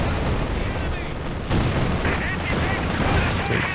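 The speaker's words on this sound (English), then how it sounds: "T-34 for Farlion. Just starting up its barrage." A T-34 tank barrage in Company of Heroes 2 thunders amid a dense battle mix of gunfire and booms, a steady loud wash of shots under a commentator's voice.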